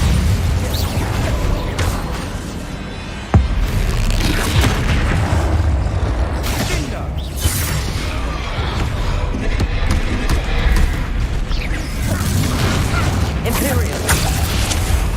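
Spell explosions in the video game Hogwarts Legacy, with dense, continuous booms, blasts and pops crowding together in loud combat, under frequent shouting voices.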